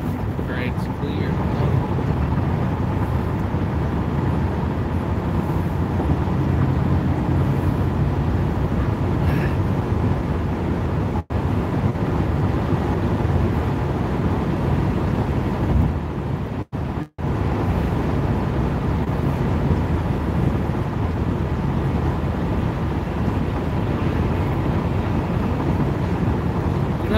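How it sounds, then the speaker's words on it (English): Steady broadband road and wind roar from a car travelling on Interstate 795, continuous and loud throughout with a couple of brief dropouts; a voice may occasionally be present under the noise. "Driving on 795 is always fun."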